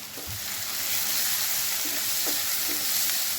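Onions for bhindi subji frying in a pan make a steady, close hiss of sizzling oil, with a few faint stirring scrapes underneath.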